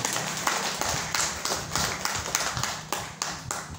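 Audience clapping in tribute at a community gathering in Indonesia, a brisk uneven patter of hands with sharper individual claps standing out, close and moderately loud throughout.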